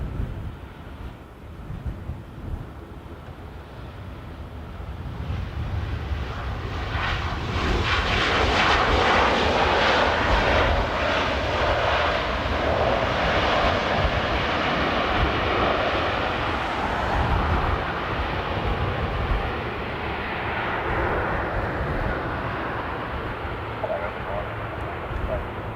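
A passenger jet lands at Dublin Airport in a gusty crosswind, its engine roar building to a loud sustained rush with wind buffeting the microphone, and a person talking over it.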